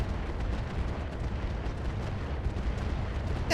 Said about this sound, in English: And quite a few missile hits as well.